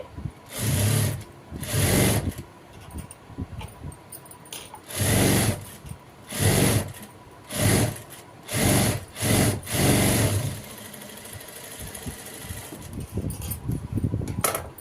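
An electric sewing machine stitches a saree blouse in about seven short, loud, close bursts of rapid whirring, separated by brief pauses, then falls to quieter handling sounds.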